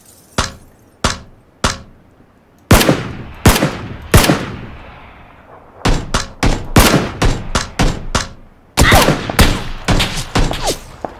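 Gunfire in the battle royale game PUBG: a few single sharp shots, then rapid bursts and volleys of automatic fire ringing out loud and close, with short gaps between clusters.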